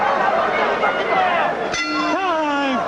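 At a Lennox Lewis versus Tony Tucker heavyweight boxing match, a crowd roars steadily until a ringside bell clangs once to end the second round, its metallic ring sustaining and fading under the arena noise.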